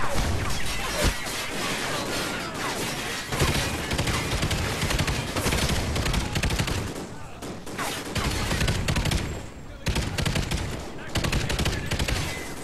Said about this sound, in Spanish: va bastante de lujo esta metralleta ligera